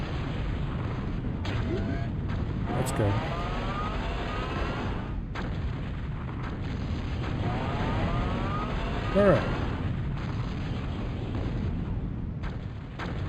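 Cannon fire and explosions in Total Annihilation boom in a steady barrage of heavy thuds and rumbles, with a voice briefly talking over the battle.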